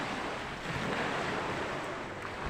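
Steady sea waves wash and roar continuously, with broad surf noise and some wind buffeting the microphone.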